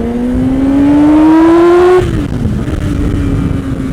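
A Yamaha R6 motorcycle screams at full throttle in second gear, its engine pitch climbing loud and close for two seconds before the throttle closes and the note drops back to a lower drone.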